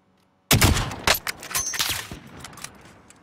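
Video game gunfire during a match with a helicopter nearby: a loud burst of shots opens the clip, followed by several more sharp reports and a rumbling, echoing tail, with no talk.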